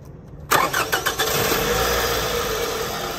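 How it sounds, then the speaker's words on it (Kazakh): A Toyota Camry 30 cranks briefly and fires up, a few quick starter pulses followed by the engine settling into a steady, close idle with no talking. "Оталған дауысын естіп жеріңіздер."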